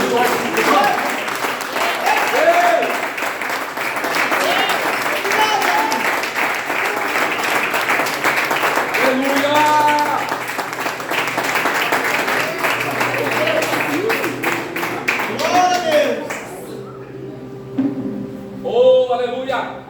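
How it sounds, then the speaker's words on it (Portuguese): Church congregation applauding at a Sunday worship service, a dense steady clapping wash lasting most of the clip with voices and music-like tones over it, thinning near the end. "Vamos dar uma salva de palmas."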